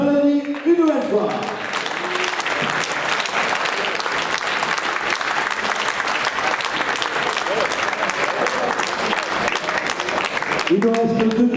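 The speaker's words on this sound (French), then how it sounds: "qu'on a applaudi une nouvelle fois" Prize-giving audience at the 2014 Karine Baillet raid applauds the winning team with a dense, sustained burst of clapping lasting about ten seconds, with a voice speaking briefly before and after it.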